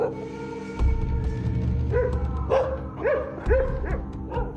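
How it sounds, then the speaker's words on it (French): Stray dogs in a town neighborhood barking repeatedly at moderate distance, a series of yelping barks with some whimpering, over a low rumbling background. "Les aboiements des chiens errants du quartier signalent régulièrement le passage ou l'arrivée des hyènes dans la ville."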